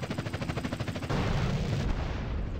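Rocket launcher fired in GTA: San Andreas: a burst of loud, rumbling blast noise swells up around the one-second mark and holds as a dense roar, following a rapid pulsing patter.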